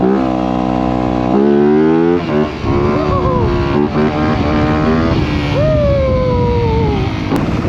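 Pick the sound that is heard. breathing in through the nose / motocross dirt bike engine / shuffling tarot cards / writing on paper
motocross dirt bike engine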